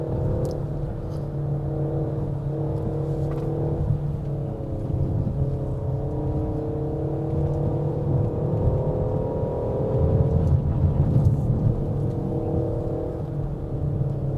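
A 2022 Peugeot 5008 family SUV climbs a wet hill road in sport mode with manual gear shifting, its engine droning steadily at mid revs with slowly rising pitch and a steady hum throughout.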